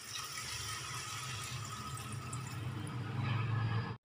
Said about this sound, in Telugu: కొన్ని వాటర్ పోసుకోండి ఫ్రెండ్స్.